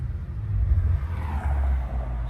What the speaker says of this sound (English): Man, that car sounds amazing.